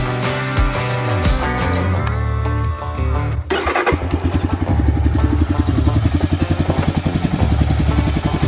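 A big red off-road side-by-side climbs a snowy hill toward a cabin, its engine revving and clattering loudly in a rapid rhythmic pulse after a brief shift, close to the recorder.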